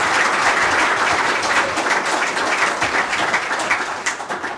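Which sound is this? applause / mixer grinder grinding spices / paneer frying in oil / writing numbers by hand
applause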